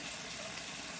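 Water poured into a pot of curry, a steady, dense splashing rush that stays even and moderately loud throughout, with no talking.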